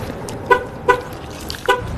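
Car horn honking in short separate toots, three distinct blasts spaced across a couple of seconds over low background noise, fairly close.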